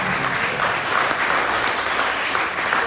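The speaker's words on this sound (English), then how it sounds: "So I'd like to give another warm round of applause to him." Warm round of applause from an audience at a May 2023 meeting, a steady dense wash of clapping that holds evenly loud for the whole few seconds without any voices over it.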